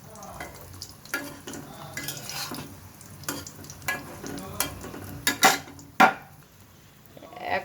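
Mughlai paratha made with egg, flour and mung dal frying in a pan, a soft background sizzle broken by a series of sharp clinks and scraping stirs from a utensil against the pan, close and fairly loud.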